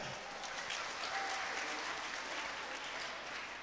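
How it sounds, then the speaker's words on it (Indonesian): A crowd claps at a community gathering with a motivational talk, a steady, even burst of many hands that stays fairly quiet and distant, with no talk over it. "Ya, tepuk tangan dua-duanya."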